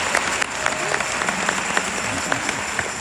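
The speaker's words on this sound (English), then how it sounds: "Y'all please give her a round of applause." Audience in a church gives a round of applause at a congressional candidacy announcement, a steady dense wash of clapping with scattered louder claps lasting throughout.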